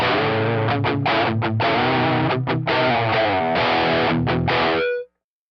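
An electric guitar plays through an Xtom Mini Tangerine Orange-style amp simulation with crunchy, mid- and treble-heavy distortion, chopping rhythmic chords with short stops before a final ringing chord cuts off abruptly.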